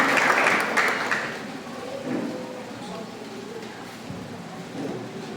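Congregation at a closing Mass for the Feast of São José Operário applauding the music ministry, a burst of clapping that is loudest at the start and then fades under murmuring voices and room noise.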